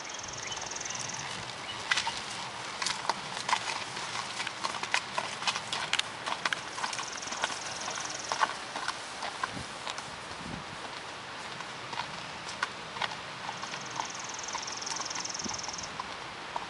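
Horses being ridden along a trail, hooves clip-clopping in a steady, irregular walking rhythm at moderate distance, with insects buzzing and leaves rustling in the background.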